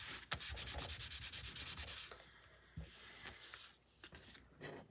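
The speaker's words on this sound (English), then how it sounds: "I'm going to take and burnish all of this together" Close, steady rhythmic rubbing of a bone folder or tool burnishing stacked, folded card layers of a Dutch door fun fold card, brisk strokes for two seconds, then slower, fainter scrapes and scattered taps.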